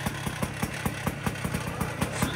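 A Sidewinder motorcycle engine putters at a steady idle right after being kick-started, with a regular, even thump of firing pulses, close and fairly loud.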